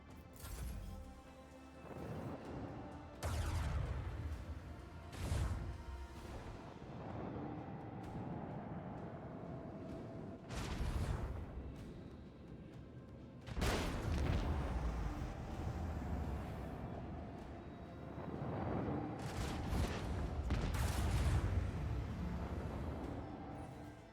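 Macro cannons fire in the game Rogue Trader: a run of heavy, booming broadband blasts, several loud volleys spaced a few seconds apart over a continuous rumbling bed.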